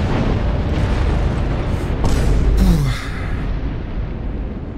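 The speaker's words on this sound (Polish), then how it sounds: "Byłby przypał, jakby ten wybuch mnie zabił." Explosion in the mech combat game Armored Core VI: Fires of Rubicon, during a fight against a heavy warship, a loud deep boom with a rumbling tail over ongoing battle noise, then settling into a lower roar.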